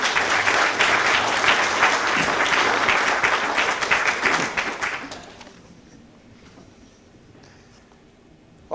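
An audience applauds to welcome keynote speaker Clarke Porter: dense, loud clapping fills roughly five seconds, then quickly thins and fades into quiet room tone.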